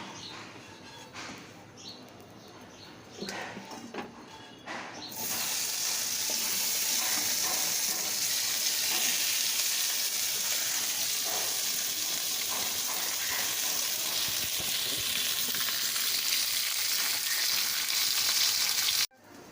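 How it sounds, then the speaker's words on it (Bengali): Potatoes and eggplant frying in oil in a wok, starting with a few clatters and stirring before a loud, steady sizzle takes over for the rest, close by and continuous, with no talking. "কড়ার মধ্যে তেল দিয়ে আলু বেগুনটা ভালো করে ভেজে নিচ্ছি"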